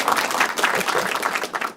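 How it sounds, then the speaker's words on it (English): A studio audience claps in a brief, lively burst of applause, dense and close throughout with no talking over it. "We're gonna give her a round of applause."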